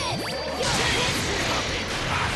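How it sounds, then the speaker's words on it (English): Special Beam Cannon attack in Dragon Ball FighterZ, a loud sweeping whoosh that bursts into a harsh, crackling energy blast roaring on for a couple of seconds. "It's a special beam cannon!"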